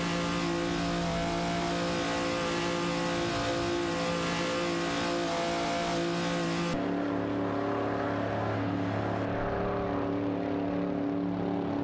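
Race car engines rev and accelerate in an AI racing video game, a loud continuous whine of multiple engines that shifts pitch partway through, with no talk over it.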